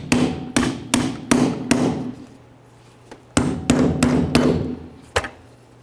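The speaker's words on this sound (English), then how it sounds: "I'm just going to give this a couple loving bonks to separate it." A hammer taps an ignition coil bracket on a 1994-2004 Chevrolet S-10 to separate it, with two quick runs of about five sharp, evenly spaced metallic blows, each followed by a single isolated strike, close and loud.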